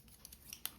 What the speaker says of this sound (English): Give it a little snip